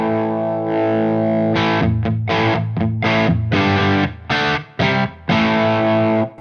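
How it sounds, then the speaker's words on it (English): An electric guitar runs through a Synergy Fryette Deliverance overdrive module with the gain raised, a thick, distorted sustained chord followed by a series of choppy, rhythmic chord stabs with short breaks between them, loud and close with no talk. "you can kind of hear it get thicker as I bring gain 1 up."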